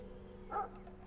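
Single short dog bark in the video game Brothers: A Tale of Two Sons, a brief yelping call rising over a steady low game background hum, moderately distant.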